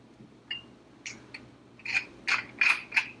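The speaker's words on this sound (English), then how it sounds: "And a few cranks of black pepper." A pepper mill is cranked over a pot of mac and cheese, giving a series of short grinding bursts that grow louder and more closely spaced, with about seven cranks, close and alone.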